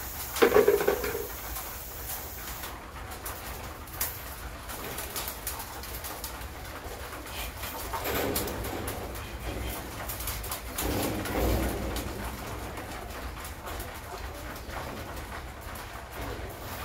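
Pet pigeons coo softly in a steady low murmur after being fed, with a slightly louder patch early on and background noise around them.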